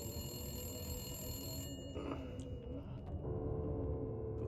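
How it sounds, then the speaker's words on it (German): A telephone rings inside the survival video game The Long Dark, its bell faint and thin over a constant low rumble of in-game ambience, with no one speaking. "Neues Ziel, geh ans Telefon."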